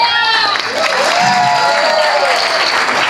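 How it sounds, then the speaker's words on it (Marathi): An audience seated at an NSS camp claps together in loud sustained applause close by, a dense continuous patter with a whistling tone and crowd noise mixed in. "समोर बसून टाळ्या वाजवतात"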